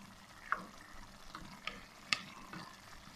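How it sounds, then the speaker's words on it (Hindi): Partly cooked rice for Shinwari mutton pulao is turned gently in a pot: soft, quiet scrapes and a few sharp clicks of the spoon against the metal over a faint background simmer, with no voices. "चावल को बस ऊपर ऊपर से हम मिक्स करेंगे,"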